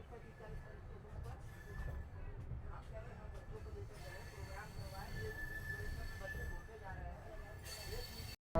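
An Amrit Bharat Express train runs on the rails from Gaya toward Delhi, a low steady rumble of wheels with faint squeal, heard faintly from on board while someone talks.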